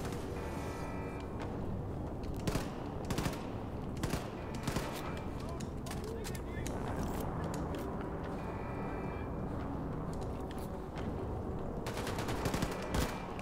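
Rapid automatic gunfire from a shooter game, Wolfenstein II: The New Colossus, crackles in dense repeated bursts across the whole stretch over a steady bed of game noise, with louder volleys standing out here and there.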